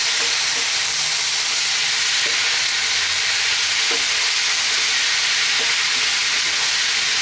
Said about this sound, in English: Going to throw this around in the pan for a few seconds.